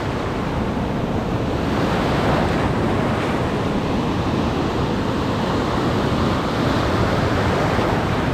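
Ocean surf at Montauk breaking steadily and loudly along the shore, a continuous broadband wash with wind buffeting the microphone throughout.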